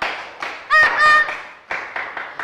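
Several people in a classroom clap in a steady rhythm, close by, with a brief vocal shout breaking in midway.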